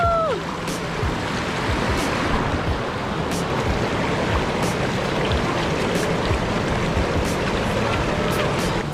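A cold mountain stream near a hidden waterfall by a campsite near Dharamshala rushes steadily in a continuous broadband wash, close and constant, with a few faint clicks and no speech.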